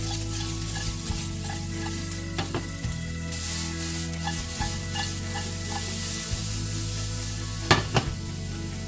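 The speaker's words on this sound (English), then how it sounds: "we fry this onion for about 2 to 3 minutes until it starts to get golden color" Onion sizzles in olive oil in a pan, a continuous frying hiss with occasional stirring scrapes and a sharp utensil clink near the end.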